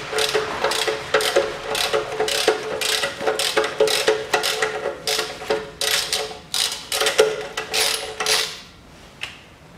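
Ratchet wrench clicking steadily in quick bursts while chasing the thread on a stud of a 2010 Chery Amulet A15 1.5, close and loud with short pauses, then stopping near the end.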